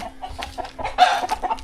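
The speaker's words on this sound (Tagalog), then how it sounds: "Mabilis na naman magkatay ng manok eh" A chicken clucks in short, agitated bursts as it is slaughtered, rapid close squawks with a louder, harsher cry midway, with no other sound.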